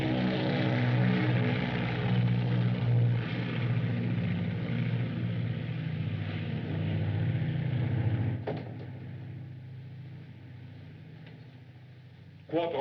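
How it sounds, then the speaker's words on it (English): A propeller mail plane bound for London drones overhead, a loud steady engine roar that holds for several seconds and then recedes into a fainter, distant hum. "It's only the mail plane for London."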